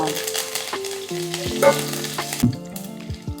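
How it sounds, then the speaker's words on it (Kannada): Curry leaves are dropped into hot oil and splutter loudly, with a burst of crackling and popping and a few clinks of a spoon stirring the pan. "ಸಾಕು, ಚಟಪಟ ಅಂದಿದೆ. ಕರಿಬೇವು ಹಾಕೋಣ."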